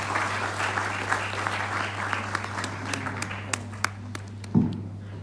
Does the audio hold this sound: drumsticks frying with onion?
no